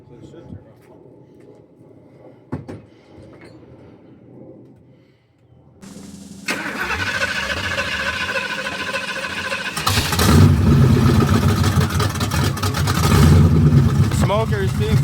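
After quiet clicks and a pause, a turbocharged Oldsmobile Cutlass engine cranks and starts, then idles loudly and revs up, a steady close mechanical roar.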